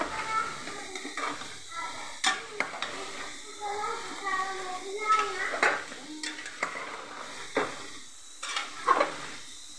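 Onion and chicken curry stirred in a pan on the stove, with a soft sizzle and scraping clinks of a spoon against metal, while someone talks over the cooking.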